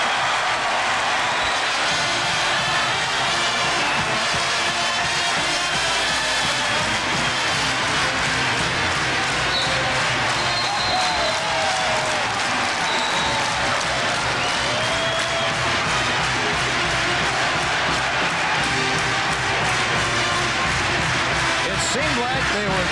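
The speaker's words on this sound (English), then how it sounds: "And this crowd is on fire." Cheering, clapping crowd at a Syracuse at Rutgers men's basketball game: loud, continuous roar of cheers and applause filling the arena, with commentators talking over it.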